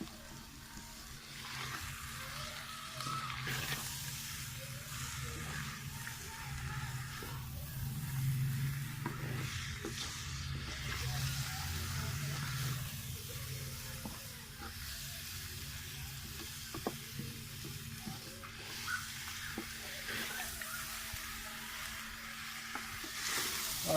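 Mutton filling for bread rolls sizzles in a pan over a low flame, a steady soft frying hiss with occasional stirring scrapes.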